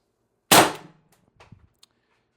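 An Umarex TR50 air rifle on high-pressure air, fitted with an 8-inch barrel extension, fires one sharp, loud crack that decays quickly, followed by a few faint clicks and light handling noises.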